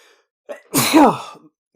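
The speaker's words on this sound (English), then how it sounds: "bear with me, I'm going to sneeze" A single loud sneeze up close, a short sharp intake followed by an explosive burst that trails off quickly.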